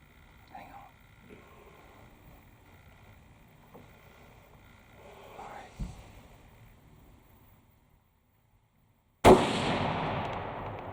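A hunter's rifle fires at a deer from a tree stand: quiet outdoor ambience with faint rustles, then one sudden loud, sharp shot near the end that rings out and decays.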